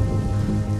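Steady rain falls in a short burst of dense, even hiss with a low rumbling undertone, close and constant, with no voices.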